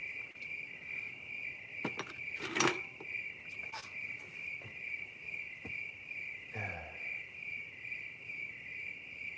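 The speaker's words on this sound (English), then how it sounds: "Crickets are awesome." Crickets chirp in a continuous high, steady drone outdoors, with a few faint knocks and soft rustles scattered through it.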